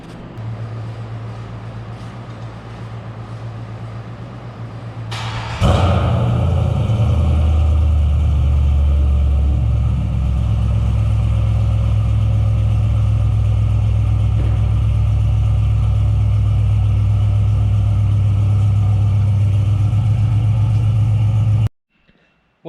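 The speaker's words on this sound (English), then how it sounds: "So we'll get a cold start real quick." A Chevrolet Silverado SS truck with a broken part that makes it run badly cold-starts with a sudden loud crank and catch, then settles into a steady, deep, close idle that runs on for over fifteen seconds before cutting off.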